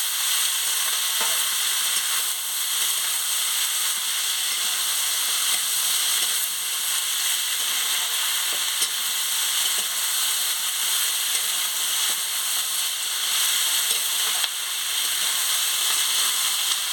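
Potatoes and mixed vegetables sizzle steadily in a frying pan for a Bengali kudli potato chorchori, with faint scrapes of stirring breaking through the continuous close, even hiss.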